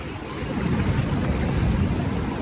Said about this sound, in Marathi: बापरे गाईज लाट लाट आली